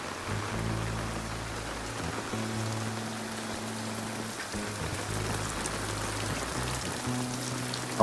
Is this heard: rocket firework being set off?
no